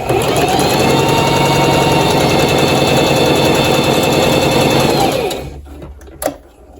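A Singer 4411 sewing machine runs steadily at a loud, even mechanical whir for about five seconds, then winds down and stops, leaving near silence broken by one brief click.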